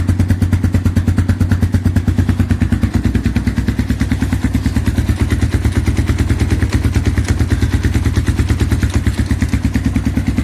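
A Kawasaki KLR 600 motorcycle with a freshly rebuilt engine (new piston, reconditioned crankshaft) runs steadily at idle, a loud, close, evenly pulsing single-cylinder thump throughout with no voices.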